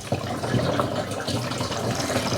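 Used motor oil drained from a car is poured into a container, making a steady close trickling and glugging stream that runs continuously for a couple of seconds with no talking.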